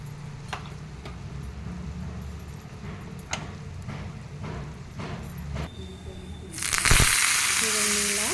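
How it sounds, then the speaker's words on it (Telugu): Mustard seeds, asafoetida and curry leaves hit a spoonful of hot oil for tempering buttermilk, giving faint ticks and light clatter at first, then a sudden loud burst of hissing sizzle that continues to the end. "ఆవాలు, ఇంగువ, అలాగే కొంచెం కరివేపాకు వేసుకొని ఇలా పోపు వేసుకుంటే"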